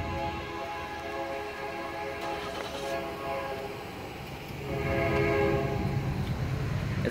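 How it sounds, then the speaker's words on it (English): A train rumbles past with its horn sounding in long sustained tones, growing louder toward the end, heard from a moderate distance. "A train."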